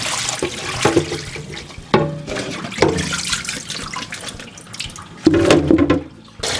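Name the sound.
washing the inner bits of a cempedak fruit under water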